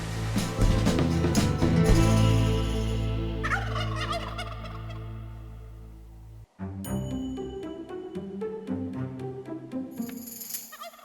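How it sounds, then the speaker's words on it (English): A wild turkey gobbles repeatedly during a hunt in quiet woods: a loud, rattling series of gobbles followed by a second burst, with no talking. "the first thing that I hear is a gobble. There's turkeys here"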